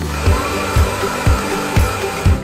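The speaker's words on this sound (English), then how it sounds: "I've just finished drying my hair" A handheld hair dryer blows on hair while it is dried at home. A steady, loud whirring airflow rises in low thumps about every half second as the dryer sweeps back and forth close by.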